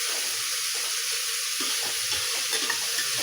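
Onions sizzle in a pan with salt, a constant bright frying hiss under faint stirring scrapes, close and steady throughout.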